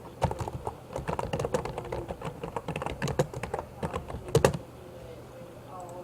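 Rapid, steady clicking comes from close typing on a computer keyboard, with dense keystrokes for about four seconds and a brief louder burst before it stops.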